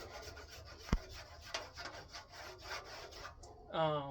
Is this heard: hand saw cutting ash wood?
yes